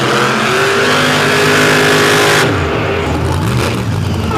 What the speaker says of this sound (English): You can see just that raw horsepower going to work as he burns the treads off of those Goodyears